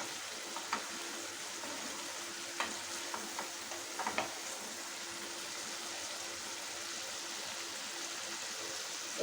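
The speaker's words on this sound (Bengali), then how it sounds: "মশলাটা কষানো হোক" Masala for kadai chicken sautés in a kadai with a soft, steady sizzle and a few faint scraping stirs in the first half, then quieter frying continues, with no voices.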